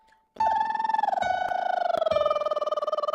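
A single held electronic keyboard tone sounds after a short pause and sustains with a pulsing vibrato, with two faint clicks along the way.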